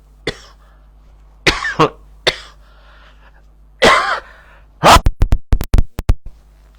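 A man coughs several times, then breaks into a rapid burst of sharp coughs or sneezes, close to the microphone and loud against near silence.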